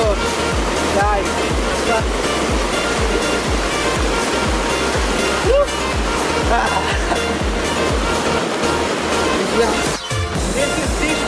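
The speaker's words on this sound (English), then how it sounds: "First shower in the trek in Rio Blanco." Outdoor shower water pouring and splashing at a trekking camp in Rio Blanco on the Choquequirao to Machu Picchu trail, a loud, continuous rush with rhythmic thumps, and a voice speaking briefly.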